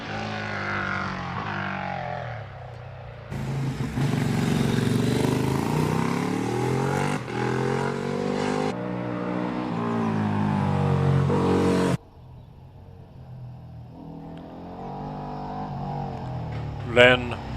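A Triumph Triple motorcycle engine revs hard during a hillclimb run at Prescott, a loud, sustained, rising and falling engine howl through gear changes while a commentator talks over it.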